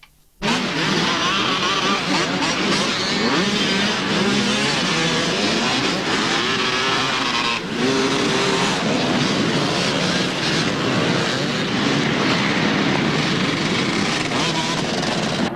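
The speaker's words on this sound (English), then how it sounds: "That was Peter Vallick on the KTM." A KTM motorcycle roars past on a muddy hare and hounds off-road course, its engine loud, close and sustained, revving and shifting pitch for the full length.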